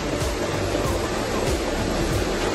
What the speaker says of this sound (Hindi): ये केव का पहला झरना है।